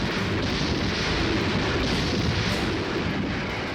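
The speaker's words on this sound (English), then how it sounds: "Hitler wakes up to massive Russian artillery and aerial bombardments" Continuous heavy rumbling barrage of Soviet artillery and aerial bombardment over Berlin, dense and loud throughout with no distinct individual blasts standing out.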